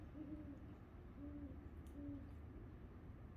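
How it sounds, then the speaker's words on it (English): A great horned owl gives three soft, evenly spaced hoots from some distance over a low outdoor background hum, with no talking. "That's a great horned owl."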